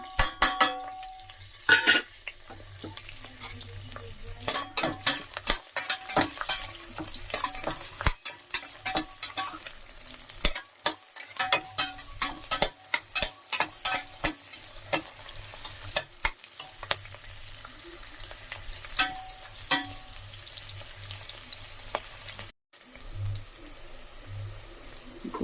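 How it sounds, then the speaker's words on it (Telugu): Onions sizzle steadily in a hot pan for shrimp fry biryani while a spoon repeatedly scrapes and clatters against the metal, giving a busy, close, continuous texture with frequent sharp clicks. "ఇప్పుడు ఆనియన్ ఫ్రై అవుతున్నాయి కదండి"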